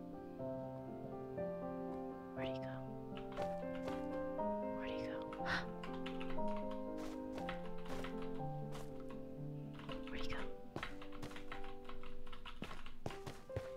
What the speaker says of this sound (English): sorry if my keyboard's really loud, by the way